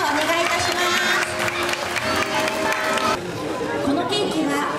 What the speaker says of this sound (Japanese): 皆様盛大な拍手でお迎えください